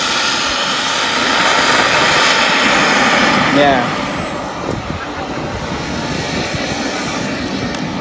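An ESS-AIR V2.0 engine sound system fitted to a P-47 Razorback 1500mm model plane, outdoors, giving a loud droning radial-engine roar that eases off midway, with people talking over it.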